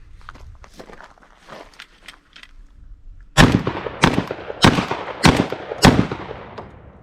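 Charles Daly shotgun with a Nordic magazine tube extension fired outdoors with 3-inch, 2 3/4-inch bird shot and mini buck shells: five loud, sharp blasts in quick succession about half a second to a second apart, after quieter handling noise.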